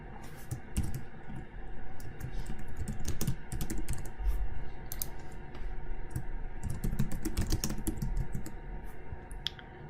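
Close, fairly loud typing on a computer keyboard, with rapid uneven key clicks in bursts and short pauses and no talking.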